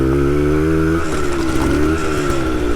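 Harley-Davidson X-90 Shortster minibike riding over rough gravel, its small engine buzzing loud and close with a steady drone that rises in pitch and wavers as the rider goes.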